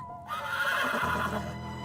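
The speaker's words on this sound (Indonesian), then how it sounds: "Terus ada suara kuda." A horse whinnies loudly and close, a drawn-out shrill neigh lasting over a second against a quiet background.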